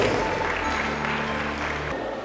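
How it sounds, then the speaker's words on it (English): A short burst of clapping from a crowd at a Nigerian political leaders forum, steady and fairly close, with a low hum running underneath. "Please, a round of applause"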